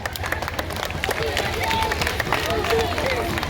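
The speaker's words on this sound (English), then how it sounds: "keep clapping, keep clapping" Audience clapping and crowd noise at a children's climate change march in Kampala, with children from an infant school; steady applause mixed with crowd babble and voices throughout.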